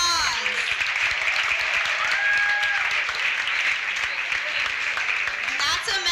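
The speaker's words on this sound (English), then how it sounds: "loud round of applause?" Loud, sustained applause from an audience at a Roberto and Vera Clemente life commemoration event, dense clapping with a few whistles and shouts mixed in.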